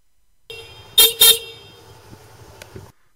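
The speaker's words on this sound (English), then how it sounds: "your horn is always a good one" A motorcycle horn being tested, two short loud honks close together, followed by a low idling hum and faint clicks, no talking.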